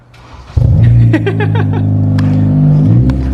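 A Honda Civic engine is started in a driveway and catches with a sudden loud rumble about half a second in, then settles into a steady, close idle that fills the rest of the clip.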